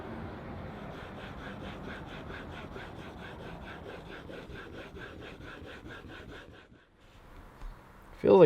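An edge tool for wooden boat building is rubbed on old, inherited sharpening stones in steady, rhythmic back-and-forth strokes, close and fairly quiet, then pauses, followed by a brief knock.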